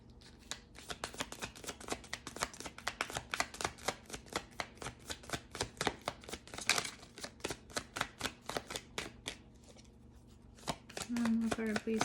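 Tarot cards are shuffled in a rapid, even run of crisp riffling snaps, close and clear, continuing for several seconds before a brief pause, with a soft voice speaking near the end.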